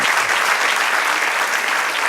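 Church congregation applauding, a dense, steady wash of many hands clapping that stays loud and even for about two seconds without a break.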